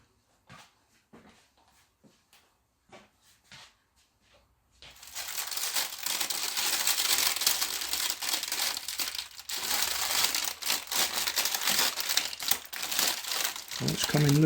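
A melted PLA plastic sheet pressed in a panini press being peeled off paper, a sudden sustained loud crinkling and tearing rustle after a few quiet taps and brief talk.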